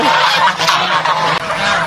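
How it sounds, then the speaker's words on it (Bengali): Geese in a village full of geese honk loudly and continuously, a dense close chorus of overlapping calls. "রাজহাঁসের গ্রাম এটা"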